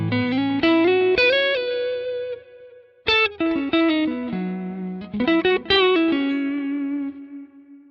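Electric guitar played through a pared-down Halo delay preset on a Quad Cortex, keeping a tape delay and a dual delay: bright, sustained melodic phrases with distortion and lush repeats trailing after each note, played alone without talk.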